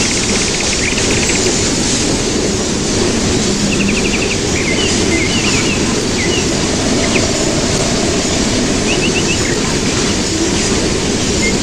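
A Norfolk Southern autorack freight train, #395 at Winston, Georgia, rolls past with a loud, unbroken rumble and wheel noise filling the scene, while faint bird chirps come through intermittently.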